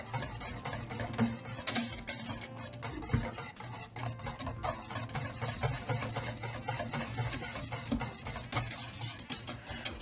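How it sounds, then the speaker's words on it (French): A whisk beats lemon tart filling in a pan over low heat, giving continuous rapid scraping and clinking of metal against the pan, steady and close throughout, with no voices. "On continue à mélanger"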